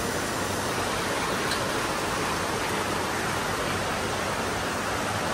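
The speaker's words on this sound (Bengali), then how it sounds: "কি পরিমাণ বৃষ্টি আসছে দেখো," Heavy rain pouring down outside a home, a steady, dense, unbroken hiss at constant loudness throughout, with no voices.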